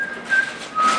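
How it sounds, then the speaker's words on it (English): Someone whistles a short tune, a few bright sustained notes with a pause in between, fairly close, over faint background hiss. "What were you just whistling?"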